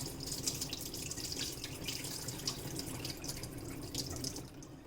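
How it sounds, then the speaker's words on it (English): Running tap water splashes steadily over rice as it is washed and strained for Jamaican chicken with rice, a continuous close trickle and patter with no talking. "And we wash our rice again. And we strain it like this."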